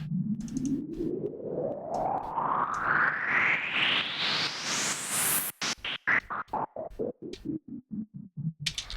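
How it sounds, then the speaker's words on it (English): A white noise sweep made on a Reaktor synth rises steadily in pitch for several seconds, then breaks into a choppy staccato run of bursts descending at the end. "this is a reactor synth that I just basically made a white noise sweep"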